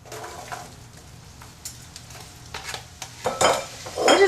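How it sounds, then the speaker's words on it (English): Drained apples cook in melted butter in a pan, giving a soft steady sizzle with occasional stirring clinks that grow louder and busier toward the end, close up, with no voices. "We're going to soften our apples in some butter."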